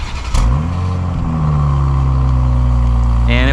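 A 2024 BMW 840i xDrive Gran Coupe engine cranks by remote start and catches, then settles into a steady, loud idle close by, with a rising whine near the end.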